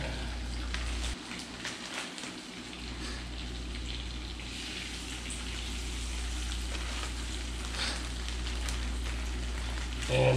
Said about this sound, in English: So now we're gonna go ahead and we're gonna start the scup cooking.